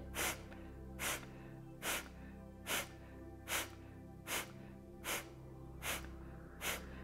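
Kapalabhati yoga breathing: sharp, forceful nasal exhales repeat at an even pace of roughly one every 0.8 seconds, close up, nine bursts over a quiet steady background.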